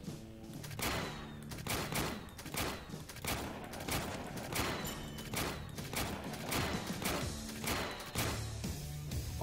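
Rapid bursts of cartoonish gunfire from shooting at enemies in the War Pips video game, a dense, continuous rattle of shots with thuds throughout, loud and steady.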